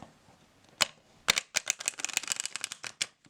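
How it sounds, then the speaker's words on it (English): Someone shuffles a chunky Bonestone & Earthflesh tarot deck with thick cardstock. A couple of single taps come first, then a quick, close run of crisp riffling clicks, with no talk. "Can I shuffle this? Because it's chunky. And the cardstock is kind of thick."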